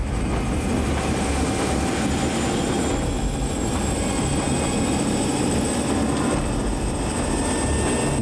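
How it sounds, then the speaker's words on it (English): A helicopter lifts off from the deck of the lighthouse supply ship Pharos, its rotor and turbine drone steady and loud over wind and sea noise, with no talking. "Nevertheless, the Pharos finds a new shelter and the helicopter takes off."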